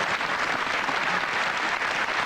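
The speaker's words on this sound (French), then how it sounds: "mais alors, applaudissons" Dense, continuous clapping from a television studio audience, steady and fairly loud throughout, with no voices standing out.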